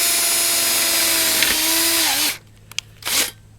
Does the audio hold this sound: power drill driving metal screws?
yes